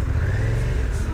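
A motorcycle engine on a Norwegian road trip drones loudly and steadily close by as the rider shifts into gear, a continuous low rumble with wind noise and no spoken words.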